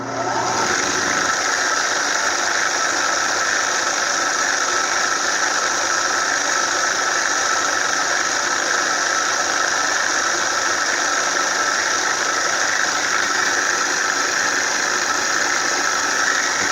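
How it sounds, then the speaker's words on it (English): Milling machine spindle running as the cutter just touches an aluminum workpiece, producing a loud, steady mechanical hum and whine that continues unbroken with no talk. "We'll turn the spindle on and kiss the work."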